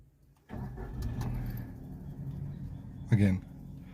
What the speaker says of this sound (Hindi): तो एक गाड़ी ऑन कर लेते हैं पहले हम जरा।